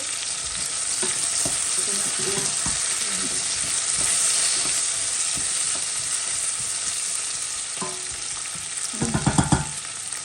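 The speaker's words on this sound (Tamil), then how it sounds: "அப்போ முருங்கைக்காயும் அதுக்குள்ள போட்டு" Drumsticks dropped into a simmering Jaffna dried-fish curry, a steady sizzling fry with spoon stirring and scraping, ending in a few louder clattering knocks against the pot.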